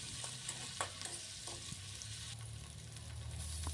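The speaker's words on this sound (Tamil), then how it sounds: "அடுத்து க்ரீன் சில்லி அதை சேர்த்துக்கோங்க. நல்லா வதக்கி விடுங்க." Green chillies sauté in a pan for an Indian-style macaroni pasta, giving a steady soft sizzle with a few light spoon scrapes and stirs, fairly quiet and close with no voices.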